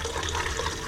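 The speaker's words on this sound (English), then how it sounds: "I turn on the cold water." Cold water runs from the sink tap in a Coachmen Nova 20C motorhome, a steady close hiss and splash of flowing water over a short stretch.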